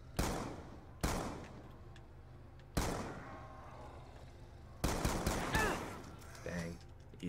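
S12 shotgun fire in Black Ops 2 Zombies: four heavy booming shots spaced a second or two apart, each decaying into rumble, with a faint voice and game noise underneath.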